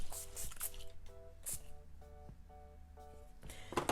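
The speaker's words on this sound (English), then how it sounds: "I'm gonna go in with like my setting spray" Makeup setting spray mists out in several short bright hisses near the start and again at the end, close and fairly soft, with quiet squishy movement between bursts.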